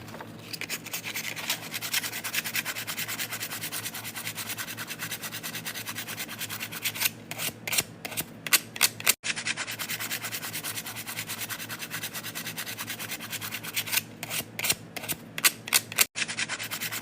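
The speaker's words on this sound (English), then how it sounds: "You definitely don't need to be scraping this down to the to taking off the paint." A scraper works paint off a surface in steady, continuous rasping strokes, moderately close and alone, with brief pauses and a few sharper scratchy bursts along the way.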